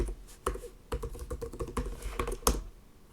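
Fast typing on a computer keyboard at a desk while signing in, close and steady, with rapid uneven keystrokes running for about three seconds and no voices.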